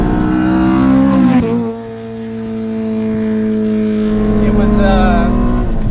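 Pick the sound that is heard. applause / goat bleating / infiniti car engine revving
infiniti car engine revving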